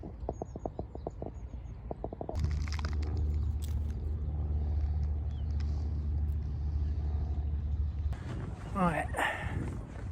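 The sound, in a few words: car driving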